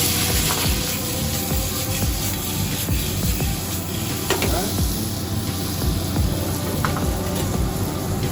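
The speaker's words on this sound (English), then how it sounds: "that's a good indication that we're ready for our potatoes. We're going to get a nice sear." A potato medley sears in a hot pan with a continuous loud sizzle. Occasional stirring scrapes and clatters come through near the pan.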